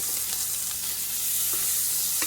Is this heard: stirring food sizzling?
yes